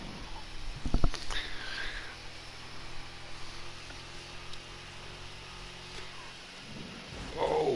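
Rain and thunder in GTA V Online during an endurance race: a sharp thunder crack near the start, then steady rain hiss with low rumbling, ending in a brief burst of noise.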